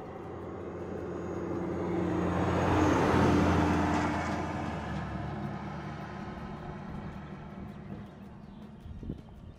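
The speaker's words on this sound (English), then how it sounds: "Got another car coming here" A car approaches along the road, swells into a broad rushing pass and then fades away, with a steady engine drone in the background throughout.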